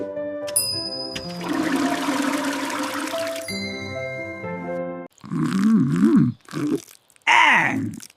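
A cartoon toilet flush gurgles and rushes loudly for several seconds amid musical tones, followed by comic grunts and groaning vocal sounds.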